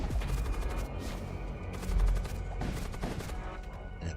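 Ship's cannons fire in the Void War video game, a dense run of overlapping blasts and rumbling booms that keeps going for the whole stretch, with a heavier burst about halfway through.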